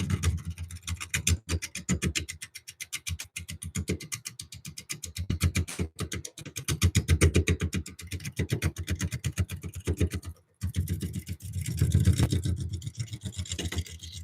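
A skew chisel cutting a wooden bowl on a spinning wood lathe gives a fast, rhythmic scraping chatter, rising and falling in loudness with short pauses between passes, and no voices.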